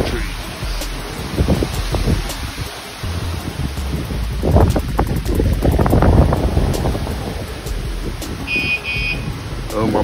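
Strong hurricane wind during Hurricane Ida buffets the microphone outdoors, a loud continuous roar with gusts swelling and easing, plus a brief high electronic beep from a bike alarm near the end.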